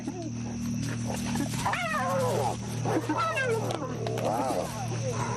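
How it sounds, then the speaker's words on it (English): Wavering, rising-and-falling hyena calls like eerie whoops and cackles repeat over a low background hum, fairly close and clear. "Even the hyena's chilling vocalizations, 11 in all, serve as a kind of psychological weapon"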